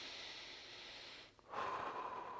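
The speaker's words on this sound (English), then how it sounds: "Nice deep breath if you can, breathing into the abdominal space using the diaphragm." Slow, deep breathing during a 90/90 hip external rotation stretch, a soft drawn-out breath fading to a brief pause, then a quiet inhale, close and faint with no talking.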